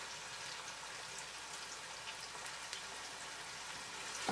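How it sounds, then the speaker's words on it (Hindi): Onions for aloo keema fry in hot oil until brown, a steady, soft crackling sizzle that continues without a break and stays close and fairly quiet throughout. "हम इस प्याज को थोड़ा सा ब्राउन करेंगे।"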